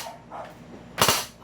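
A toy Desert Eagle gun set to single fire lets off a sharp, loud snap near the end, with the two shots fired so close together they almost merge, after quiet handling noise.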